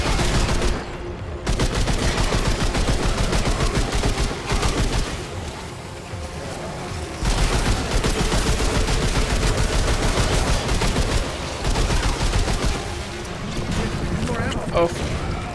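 A summoned heavy weapon in Remnant 2 fires in long, dense, loud bursts of rapid gunfire, nearly continuous with only brief gaps, backed by a thick roar of battle noise.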